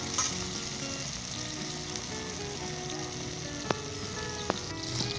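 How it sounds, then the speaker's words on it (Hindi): Ginger, garlic and tomatoes fry into a paste in a pan with a steady, dense sizzle, a couple of faint clicks from stirring, no talk. "और इसे इतना हम फ्राई करेंगे हमारे जो टमाटर गल के बिल्कुल एक पेस्ट की फॉर्म में आ जाए"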